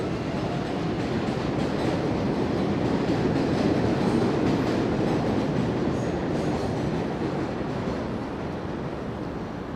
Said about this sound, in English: Trains are passing right overhead.